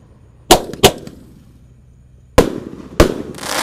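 Shots from a 100-shot roman candle firework fired for Ramadan, four sharp loud bangs in two pairs with crackling tails between them.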